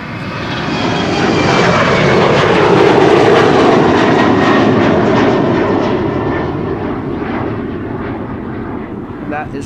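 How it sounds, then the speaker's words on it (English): A KLM jet airliner roars on its takeoff run from Schiphol's Polderbaan runway in rain, the engine noise swelling loud and broad, then slowly fading into the distance. "KLM flight 635 to Las Vegas, which is now going to make its second attempt at taking off"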